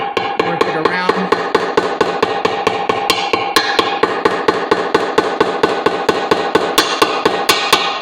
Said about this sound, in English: just take a little hammer and just gently work it around.